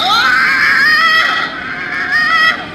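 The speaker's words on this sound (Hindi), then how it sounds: "पर दर्द के मारे आलोक की बहुत जोर से चीख निकल गई।" A loud, sustained scream of pain from a man, used as a horror audio drama effect, rising and wavering in pitch with a second strained peak near the end, alone without talk.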